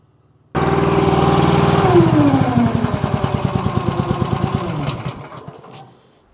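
The engine of a Wolfe Ridge 28-ton high-output log splitter starts up suddenly and runs loudly, then settles into a steady, rhythmic chugging idle close by before cutting off near the end, in winter.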